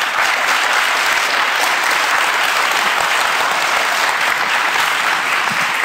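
Sustained loud applause from a large live audience at a Brain Bar 2024 talk on the Vision Stage, a dense unbroken wash of clapping with no pauses.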